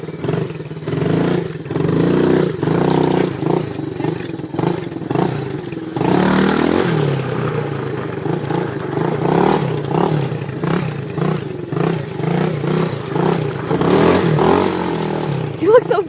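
A dirt bike engine revs hard in first gear, a loud, continuous throaty roar with rising and falling surges for about sixteen seconds, while people talk over it.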